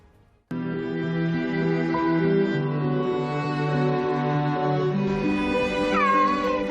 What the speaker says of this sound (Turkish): Sadece tek çıkardığın ses bir miyav sesi